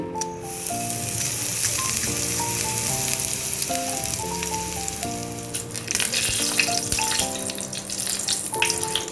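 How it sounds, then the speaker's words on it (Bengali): Asafoetida fries in a mix of hot oil and ghee, giving a strong, close, continuous sizzle with crackles, while background music plays underneath. "হিং দিয়ে তেল আর ঘিটা একটু ভাজা ভাজা করে নিলাম"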